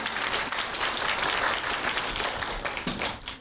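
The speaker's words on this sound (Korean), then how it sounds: "이번에도 박수를 받아주시기 바랍니다." An audience claps in sustained, fairly even applause at a university information session for students, with no talk over it.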